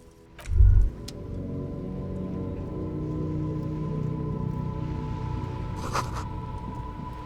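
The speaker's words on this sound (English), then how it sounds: "This rain will not let up anytime soon." Steady rain falls in the detective game Disco Elysium, a constant hiss under a low hum, with a brief heavy thump near the start and a faint clink later.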